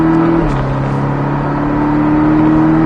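A Porsche Cayman 718 S engine holds a steady drone that shifts pitch once early on, then pulls on continuously at close range, with no talk over it.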